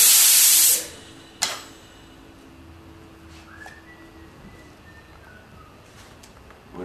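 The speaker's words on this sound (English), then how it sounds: "we're going to turn the main air valve on" A loud burst of compressed air hisses as the main air valve of a variable ratio machine is opened, cutting off after under a second, followed by a sharp clunk and a faint whistling tone.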